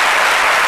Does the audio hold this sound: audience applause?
yes